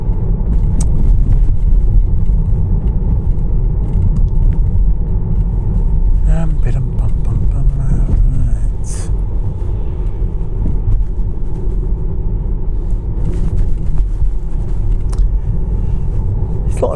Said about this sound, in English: There's a lot of traffic around still.